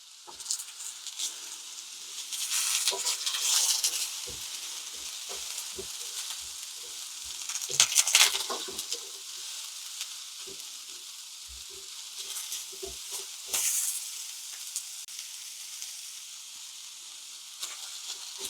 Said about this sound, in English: these onions are coming along really well. Just listen to the sizzle on that.